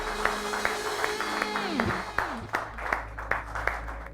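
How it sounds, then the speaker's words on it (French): Scattered hand claps sound through a scene while people talk and music plays underneath, the claps sharp and spaced rather than a full ovation. "Ça mérite des applaudissements."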